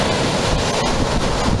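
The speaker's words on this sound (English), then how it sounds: "Sea's a bit rougher." Rough sea surf breaking steadily on Chesil Beach, a loud continuous roar of waves with heavy wind buffeting the microphone and no voices.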